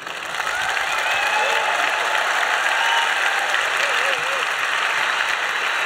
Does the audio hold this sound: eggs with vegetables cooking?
no